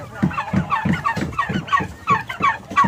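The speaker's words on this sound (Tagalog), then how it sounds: "Ayan, may mga pabo rin tayo dito." Turkeys on a farm gobbling in rapid repeated bursts, a close, loud, bubbling chorus of overlapping calls with no talking.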